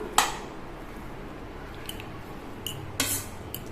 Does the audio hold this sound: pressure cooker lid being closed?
yes